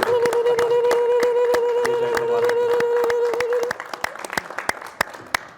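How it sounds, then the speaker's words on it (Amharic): Audience clapping at a Christmas worship program, a sustained burst of applause with a steady held tone over it, thinning to scattered claps near the end. "ተወልዶ ለወለደን ጌታ ክብር የምትሰጠው እልልታ ካላችሁ እልልታ ነው፣ ጭብጨባ ካላችሁ"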